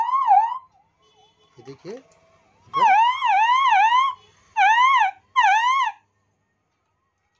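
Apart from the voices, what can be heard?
police/ambulance siren from a repaired siren amplifier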